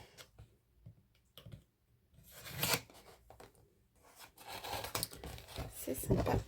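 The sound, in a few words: peeling off small pieces of sticky tape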